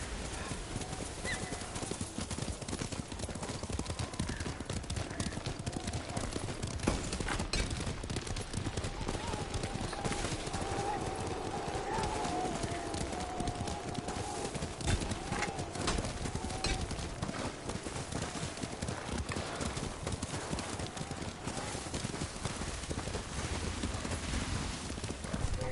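Horse hooves clip-clop steadily and continuously in Ghost of Tsushima, a galloping rhythm under faint background sound and occasional distant noises, heard throughout.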